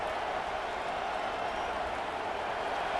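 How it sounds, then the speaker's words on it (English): Dense, steady roar of a home stadium crowd cheering at a college football game between Florida State and Ohio State, a continuous wall of noise with no pauses. "how nice is it to have the home crowd going absolutely bananas?"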